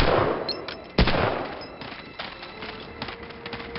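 Gunfire from the video game Medal of Honor Allied Assault: a loud, sharp shot near the one-second mark stands out against a steady, dense wash of battle noise, with further scattered quieter reports.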